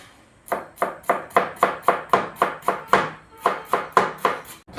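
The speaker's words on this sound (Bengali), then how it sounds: "আমাদের বাঁধাকপি কাটা কমপ্লিট" Cabbage being chopped with a knife on a board, about sixteen crisp, evenly spaced cuts in a quick steady rhythm with a short pause midway, close and clear with nothing else heard.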